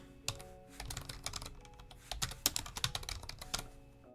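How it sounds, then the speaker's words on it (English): Fingers type on a computer keyboard in a quick, uneven flurry of close, crisp key clicks with brief pauses, and no voice over them. "Right, typing is hard."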